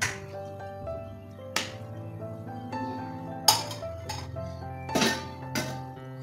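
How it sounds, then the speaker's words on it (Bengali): A metal lid set onto a cooking pot of cauliflower and meat curry, giving a few sharp clinks and knocks of cookware spaced over several seconds in a quiet kitchen. "ঢাকনাটা রেখে দিলাম।"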